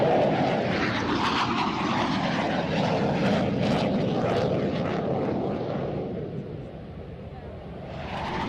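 A fixed-wing aircraft flies over runway 26 at an air show, its engine roar loud and continuous, swelling and then easing slightly as it passes overhead.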